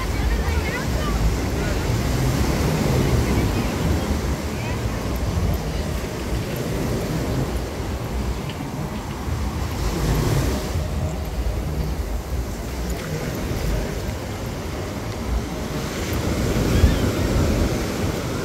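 Ocean surf rolls onto the beach at Rosarito in a steady, broad rumble of breaking waves, mixed with gusty wind buffeting the microphone and faint distant voices throughout.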